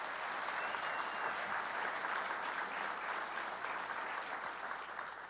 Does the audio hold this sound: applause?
yes